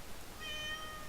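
A domestic cat gives one short, faint meow, indoors, behind a quiet room background.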